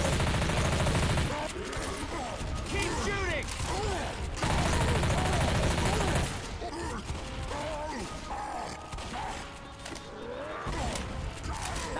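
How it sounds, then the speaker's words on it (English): Machine gun fire in Left 4 Dead 2 rattles in dense sustained bursts under a constant wall of game noise. Other weapon and creature sounds mix in, and a voice runs over it. "Machine gun. Shoot the shit out of that thing!"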